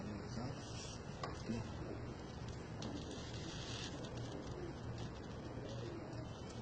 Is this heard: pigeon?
yes